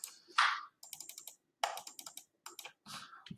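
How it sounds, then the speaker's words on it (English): Someone types on a computer keyboard in short bursts of crisp, close key clicks separated by brief pauses, with one louder burst near the start and no talking. "If you don't have it, I mean, you just type. Just type it in."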